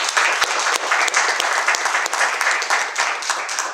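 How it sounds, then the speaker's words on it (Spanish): A seminar audience at the FES gives steady, loud applause, many hands clapping densely and continuously throughout. "Entonces, vamos a dar inicio con Anel, le damos un aplauso, por favor."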